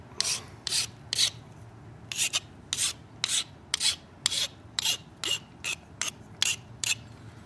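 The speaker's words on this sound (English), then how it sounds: "I'll just go ahead and sharpen this real quick so you can see." Rhythmic rasping strokes of a flint knapping tool being sharpened, about a dozen short scraping passes in quick bursts with brief gaps, close and fairly loud, with no talk.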